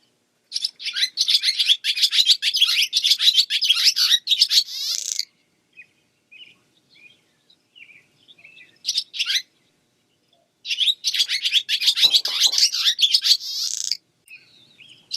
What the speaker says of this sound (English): this is a barn swallow, juvenile barn swallow. And I'm gonna play its sound.